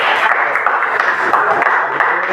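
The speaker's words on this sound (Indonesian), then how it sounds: "Tepuk tangan untuk Jasmine dan Tira" Applause from a class of students for two classmates in a school lesson, a dense steady patter of many hands clapping close by, continuous and fairly loud throughout.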